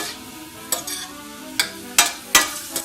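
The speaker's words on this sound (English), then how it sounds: "So we're going to saute these for a moment." Shallots sautéing in a pan on medium heat, a soft sizzle broken by four or five sharp scraping strokes of a utensil stirring them, close and clear.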